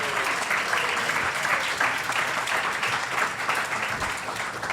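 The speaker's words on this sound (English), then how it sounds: "Give them a round of big applause." A live studio audience claps for two hosts walking on stage, a full, continuous burst of applause that holds steady before easing slightly at the end, with faint voices mixed underneath.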